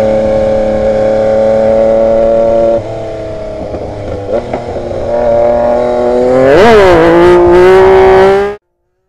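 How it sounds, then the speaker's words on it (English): Yamaha MT-09 2021 three-cylinder middleweight motorcycle engine held at a steady loud rev, then dipping before sharp rising throttle blips near the end, heard close and alone before cutting off. "starting with the engine on this beautiful 3-cylinder engine, I think it sounds absolutely fantastic."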